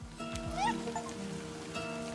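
A cat in a video game gives a single short, rising meow over a faint steady humming background, quiet and close, with no talk.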